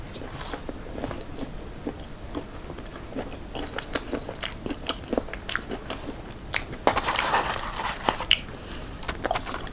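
Close, crisp bites and crunchy chewing of Burger King onion rings, repeated irregularly for the whole stretch with louder crunches near the end, no talking.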